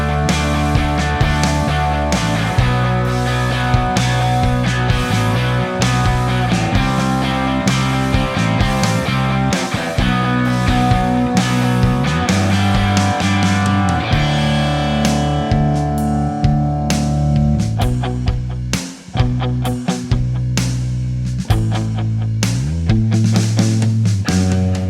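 Electric guitar played through a Vox-style amp capture on a ToneX, with a chimey, mildly driven tone that isn't an exaggerated AC30 sound, strummed chords and riffs ringing steadily and loudly for the whole stretch with a brief pause near the end.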